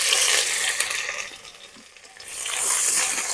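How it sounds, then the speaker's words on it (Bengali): Chopped onion frying in oil makes a close, hissing sizzle that dips briefly in the middle while being stirred, then swells again. "পেঁয়াজটা একটু ভালো করে ভেজে নেবো।"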